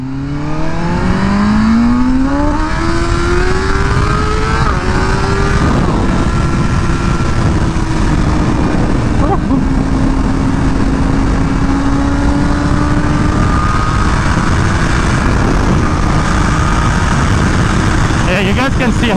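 Tuned BMW M1000R motorcycle on a test ride, its engine climbing in pitch as it accelerates, then holding a steady drone under rushing wind, loud and close throughout.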